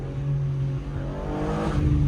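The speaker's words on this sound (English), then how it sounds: "that exhaust note is insane" A BMW G82 M4 exhaust drones and revs with a deep, steady rumble, building slightly toward the end, close and loud.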